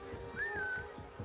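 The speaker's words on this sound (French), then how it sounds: "Est-ce que si je siffle, il va se ramener?" A character in Assassin's Creed Mirage whistles a single sliding note that rises and then dips, moderately faint over soft in-game ambience and light footstep-like thuds.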